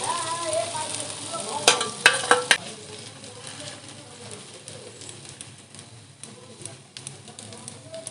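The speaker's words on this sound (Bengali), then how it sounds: "এবারে ফুলকপি মিশ্রণটা দিয়ে দেব। এইভাবে চারপাশে চালিয়ে দেবো সমান করে।" A cauliflower and egg mixture sizzles in a hot pan while a spoon spreads it evenly around, giving a soft continuous fry with a few sharp scraping clicks, and a voice talks over it.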